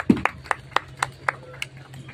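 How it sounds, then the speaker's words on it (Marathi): A sparse, slow clapping rings out at a school alumni gathering in honour of a doctor, about eight evenly spaced claps heard clearly over a low hum. "डॉक्टर कदम यांच्यासाठी जोरदार टाळ्या"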